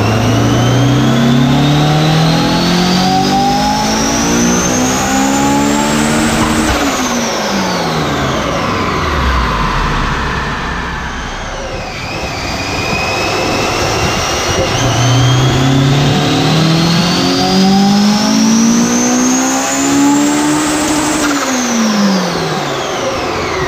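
Turbocharged Honda S2000 with a Kraftwerks kit revving on a dyno, loud and close, the engine climbing through the revs in two long sweeping pulls separated by a brief drop back down.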